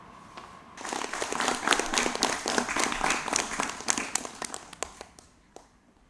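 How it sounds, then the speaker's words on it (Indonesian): An audience claps after a children's school performance, with a dense burst of applause that builds quickly, holds steady, then thins into scattered claps and fades. "Tepuk tangan dulu dong sekali lagi."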